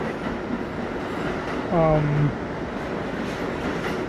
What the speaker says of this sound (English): The R46, the wide-bodied train.